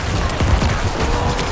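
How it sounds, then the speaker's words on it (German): Explosions from the video game Diablo 4 crackle in a quick, loud volley of overlapping bursts, with no talking. "Jetzt gibt's Explosionen!"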